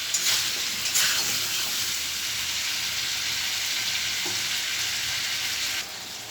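Chicken and potatoes with spices sautéing in a pan for a Bengali chicken-and-potato curry, giving a steady, loud close sizzle and frying hiss with faint stirring scrapes, no voices.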